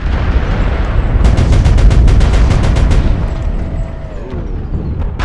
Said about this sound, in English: Looks like there's an airstrike coming in.